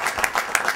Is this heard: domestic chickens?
no